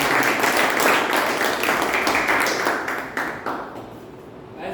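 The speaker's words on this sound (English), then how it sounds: "A big round of applause for everyone." A room of people at a Toastmasters club meeting gives a round of applause, dense clapping that is loud at first and then thins out and fades near the end.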